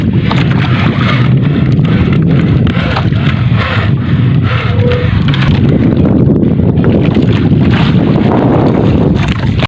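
Strong wind roars steadily across the microphone with a broad rushing noise, alongside the low rumble of a fishing boat moving over the sea.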